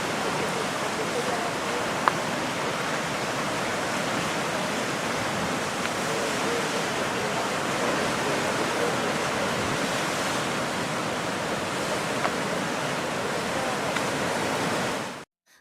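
Sea waves at the Azure Window on Gozo wash steadily in a broad, continuous roar of surf, loud and unbroken, with no voices over it until it cuts off at the end.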